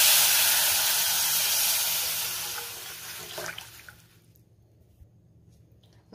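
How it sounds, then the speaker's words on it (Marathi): Milk poured into a hot pan of ghee-roasted dry date powder and cashews sets off a loud, broad sizzling hiss that slowly fades and dies away after about four seconds, leaving near silence. "आता ह्यामध्ये आपल्याला दूध घालायचंय।"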